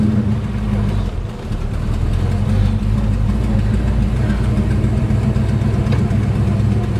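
A 1969 Chevelle SS V8 idles steadily and loudly with a deep, lumpy rumble and no talk, suspected of an internal engine fault.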